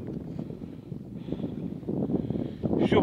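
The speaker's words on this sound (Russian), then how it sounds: "Ветер сильный, вообще дует прям." Strong wind buffets the microphone in a steady low roar with gusts, rising louder toward the end.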